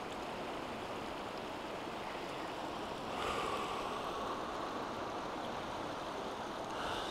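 A mountain river flows in a constant soft rush of water, broadband and steady with a slight swell partway through, calm and fairly faint with no voices.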